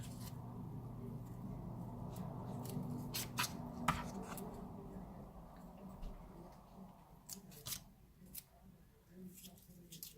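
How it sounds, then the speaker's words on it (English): Quiet, repeated snipping clicks of scissors working through paper, irregular and close, over a low steady hum. "My scissors don't want to cut it."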